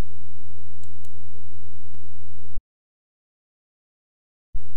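A computer mouse gives a few faint, quick clicks over a steady low hum, then the sound cuts to complete silence before the hum briefly returns.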